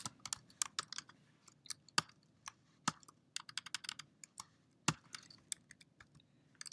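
Rapid, irregular keyboard typing, crisp clicks in uneven bursts with a few louder keystrokes, close by in a quiet room.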